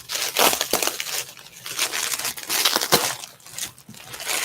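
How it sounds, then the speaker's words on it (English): Records are unwrapped from a mailed box. Plastic and paper packaging crinkles, crumples and tears in close, continuous bursts that keep going throughout. "I should have tried to unwrap this a little earlier."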